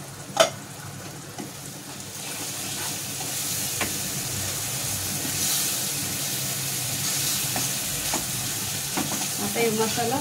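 Masala paste frying in oil, a continuous soft sizzle with occasional sharp clicks and stirring scrapes, heard close and unaccompanied at a modest level.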